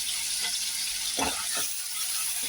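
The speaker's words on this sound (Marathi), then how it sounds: "कांद्याला आपण चांगलं परतून घ्यायचंय" Finely chopped onions sauté in hot oil, a steady close sizzle broken by a few soft scraping stirs of the pan.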